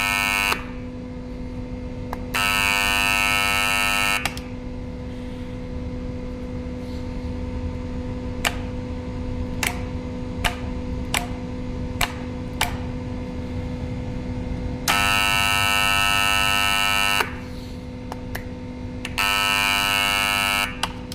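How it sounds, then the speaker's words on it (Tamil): An electrical alarm goes off when a motor overloads and trips its MPCB. It sounds as long, loud, harsh buzzer blasts, three bursts over a constant background hum, with faint clicks in the gaps. "இப்போ இந்த நேரத்தில் வந்து மோட்டர் வந்து ஓவர்லோட் ஆகும்போது வந்து ட்ரிப் ஆகும்போது அலாரம் அடிக்க ஆரம்பிக்கும்."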